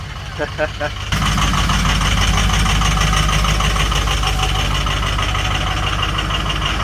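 Jeep Grand Cherokee WJ engine, block-heated for two hours and still cool on oil and coolant, catches after a brief voice and then runs loud and close with a steady, rough idle.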